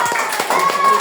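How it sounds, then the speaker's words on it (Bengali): Applause in a home classroom lesson for a seventh-grade student, a short burst of close hand clapping with a few distinct claps over about a second, mixed with faint voices. "একটা করতালি হবে"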